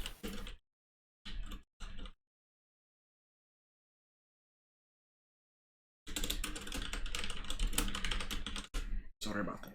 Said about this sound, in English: Sorry about the typing.